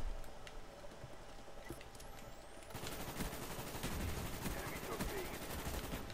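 Gunfire in Call of Duty Black Ops multiplayer: dense, rapid automatic shots and explosive bursts that grow loud and continuous after a quieter opening, filling the rest of the stretch with no break.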